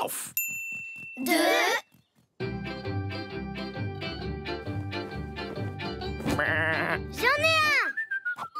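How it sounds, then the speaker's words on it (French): Sheep bleat in a children's nature show, a clear bleat breaking out near the start and more near the end over bright music and chimes, with a voice talking in between. "Par ici les moumous, les moutons."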